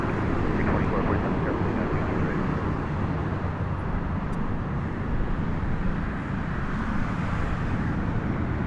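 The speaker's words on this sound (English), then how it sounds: "we have a Southwest flight coming in" Southwest airliner approaching Las Vegas airport, a loud continuous broadband jet roar that holds steady and fills the whole stretch, with no clear talk over it.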